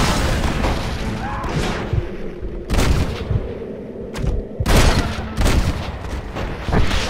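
Explosives in Red Dead Redemption blow up in several loud, close booms spaced a second or two apart, mixed with gunfire and someone talking over them.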